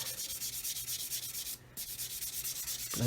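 A 1000-grit sanding sponge is rubbed over a 1/144 scale Roden C-141B Starlifter model aircraft in quick, steady back-and-forth strokes, close and fairly loud, with one brief pause midway.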